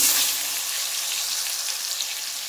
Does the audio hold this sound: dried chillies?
yes